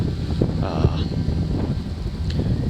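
Strong wind buffets the microphone outdoors during a November deer hunt in Illinois, a continuous low rumble with gusty swells throughout.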